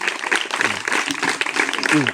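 Schoolchildren in a village applauding together, a dense burst of rapid, overlapping claps close by for a couple of seconds, mixed with voices.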